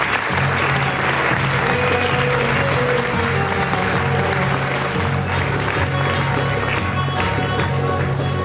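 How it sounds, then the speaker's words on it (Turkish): Loud, sustained applause from an audience at a school theatre event, dense steady clapping lasting throughout with no voices standing out. "alkışlarla davet ediyoruz"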